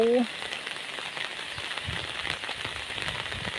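Steady rain pours down during a storm, a dense, even hiss with scattered patters on surfaces running unbroken throughout.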